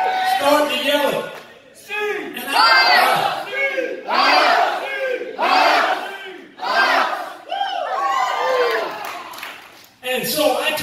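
A crowd of Seattle football fans yells and cheers in loud repeated bursts, rising and breaking off several times in a rhythmic chant-like pattern.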